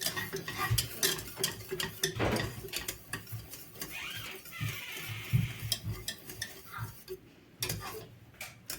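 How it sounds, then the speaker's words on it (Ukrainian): A spoon scrapes and taps around a pot while stirring a thick berry filling as it comes to a boil, irregular clinks and swishes repeating close by. "Я її ще ретельно мішаю."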